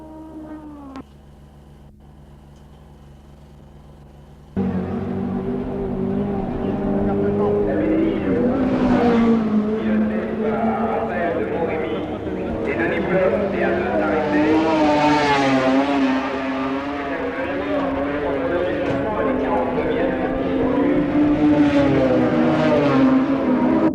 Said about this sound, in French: la Benelli Antard numéro 23 résout ses problèmes de mise au point mécanique et continue une course régulière